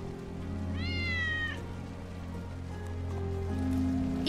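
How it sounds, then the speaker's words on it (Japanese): A cat meows in Final Fantasy VII Remake: a single short, rising-falling meow, moderately loud, set against a steady hum and soft rain-like ambience. "ウェッジの猫だ。"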